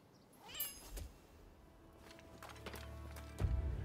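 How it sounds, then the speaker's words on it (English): A cat in the video game Rise of the Ronin gives a few short meows, fairly soft and close by, against a quiet in-game background with light footstep-like sounds and a thump near the end. "There's the cat. There we go,"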